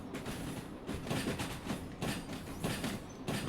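A train rolls along in the Derail Valley railway game, a steady rumble with rhythmic clickety-clack wheel beats and faint squeal, quiet and continuous with no talking.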